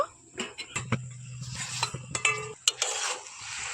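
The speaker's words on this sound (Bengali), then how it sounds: "এখন আমি ঢাকনাটা খুলে নেব।" Lid lifted off a cooking pan of Bengali pui metuli, a few clattering metal knocks and scrapes followed by a soft steady sizzle, close and fairly loud.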